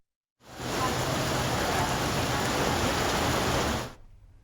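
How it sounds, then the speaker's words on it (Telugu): Torrential downpour in Mulugu district, a steady dense roar of heavy rain that starts abruptly, holds loud and even for several seconds, then cuts off. "ములుగు జిల్లాలో కుండపోత వర్షం బీభత్సం సృష్టిస్తోంది."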